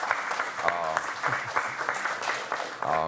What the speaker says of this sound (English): So yeah, we can definitely clap for our early shout out